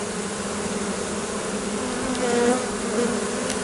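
A relocated honeybee colony hums with a dense, continuous buzz at close range, with a few louder wingbeats passing nearby.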